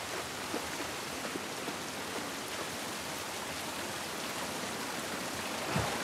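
Steady rain falls outdoors in the video game The Last of Us Part 1, a dense, even hiss of drops that runs unbroken throughout with no talking.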